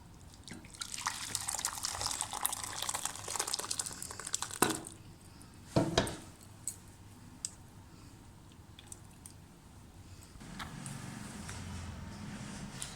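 Hot chicken corn soup being poured from the cooking pot into a serving dish, a steady liquid pour and splash with a couple of sharper clinks of a ladle or utensil against the dish, fairly close with no talk.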